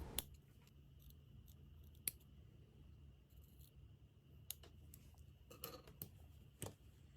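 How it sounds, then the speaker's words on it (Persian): Quiet, close snips of scissors cutting fabric at the corner of a formal suit pocket, several short crisp cuts spread unevenly over a faint background hiss. "1 سانت مونده به انتهای جیب، حالت مثلثی باید قیچی بشه"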